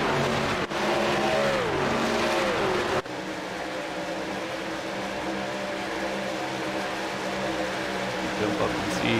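Race truck engines in iRacing at Atlanta Motor Speedway, a loud roaring drone with pitch sweeps as trucks run side by side, then settling into a steadier hum; a commentator talks over it.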